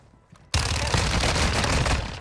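Gunfire in Call of Duty: Warzone on the Vondel map: after a brief near-silence, a sudden burst of rapid, loud, close shots runs on as a continuous fusillade with a few heavier cracks.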